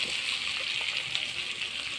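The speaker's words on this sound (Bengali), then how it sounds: "এখন আমি জল দিয়ে দেব" Hot water is poured into cooked duck meat in a wok, a continuous close gushing and hissing wash of liquid with no talk over it.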